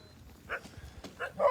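A few short barks and yips from sled dogs at the Copper Basin sled dog race, close by, separated by brief pauses.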